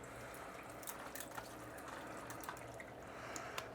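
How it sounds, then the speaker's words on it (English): Water poured from a container into a blender jar packed with ice, a steady faint splashing wash with small drips and trickles, continuous and fairly quiet with no talk. "So I'm gonna pour some water in."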